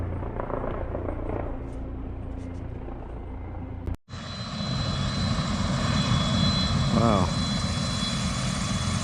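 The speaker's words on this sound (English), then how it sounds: "I've got a helicopter circling my camp" A helicopter circling over a stealth campsite at night, a steady, broad rotor and engine roar that swells after a short cut and stays loud; a voice exclaims briefly.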